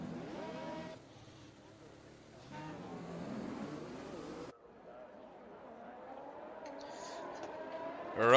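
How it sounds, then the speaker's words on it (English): Race cars on a Russia-round formation lap in the F1 2021 game, tyres warming before the start: engines hum and rise in pitch at a moderate distance, one car's revving swelling louder toward the end. "The guys are now on the formation lap, warming up their tires for the start"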